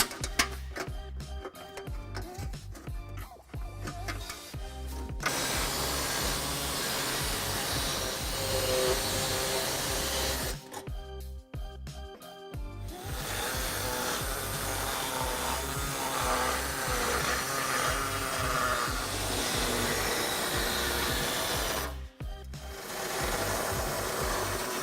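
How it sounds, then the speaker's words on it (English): Air saw cutting material for a trailer hitch install under a 2012 Kia Optima, a loud, steady buzzing drone in long close bursts broken by short pauses. "we can now remove the material cutting with either an air saw, as I have here"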